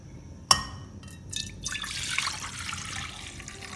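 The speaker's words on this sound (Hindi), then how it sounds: "पानी मैंने थोड़ा डाला है।" Water poured into a cooking pot on a stove in a home kitchen, a sharp clink at the start followed by a soft, steady splashing trickle, close and fairly quiet.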